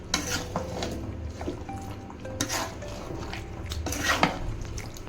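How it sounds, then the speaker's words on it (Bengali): Chicken is stirred in a pot while cooking for homemade chicken dum biryani, with spoon scrapes, clinks against metal and a soft sizzle coming in irregular bursts. "তারপর আমি চিকেনটাকে ভালো করে ঘেটে নিচ্ছি।"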